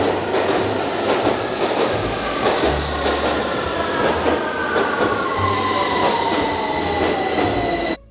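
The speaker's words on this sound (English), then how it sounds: "those traction motors will most likely sound like this" A train rolls steadily with a loud, continuous rumble, the rising electric whine of its traction motors sliding across the pitch, and faint rhythmic clicks of wheels on rail.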